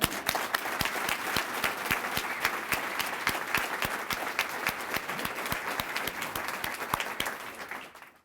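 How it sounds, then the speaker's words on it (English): An audience at a teacher-of-the-year awards dinner breaks into applause, a crowd's dense clapping with sharp individual claps standing out, sustained throughout before trailing off at the very end. "I'd like us to give them a round of applause now"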